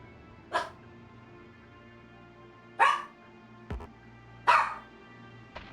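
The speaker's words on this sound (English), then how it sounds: "You barking at wanting to go out for some reason, even though we went out." A dog barks three times in separate, fairly loud single barks spaced a couple of seconds apart, with a brief thump between the last two against a quiet indoor hum.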